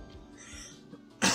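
A single short cough bursts out near the end, close and fairly loud after a quiet stretch.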